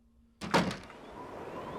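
A wooden door opens in The Long Dark in a quiet interior: a sudden thunk and creak of the latch and hinge, followed by a soft whooshing fade of wind, close and fairly loud against near silence.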